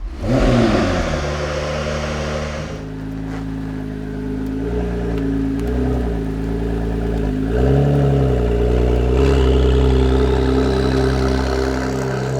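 A big American land yacht car's engine cranks and fires up, then settles into a loud, steady, deep idle and drive drone with rising revs partway through, close and continuous, with no talk.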